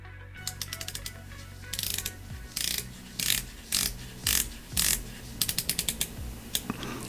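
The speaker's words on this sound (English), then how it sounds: "let's listen to the bezel action on this, because the bezel action on this is surprisingly really good for a watch that's actually made out of plastic" The plastic ratcheting bezel of a Luminox Bear Grylls watch is turned in close-up. It gives crisp rapid clicks in short bursts and runs with brief pauses between turns.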